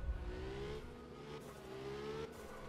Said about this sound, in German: Der Sound von dem Auto ist ganz cool.